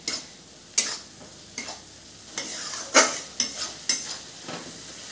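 Turmeric, coriander and Kashmiri chili powder roasting in a pan while being stirred, a low sizzle punctuated by repeated sharp spoon scrapes and clinks against the metal, close by.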